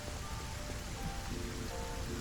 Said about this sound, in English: Love how the rain interacts with this game.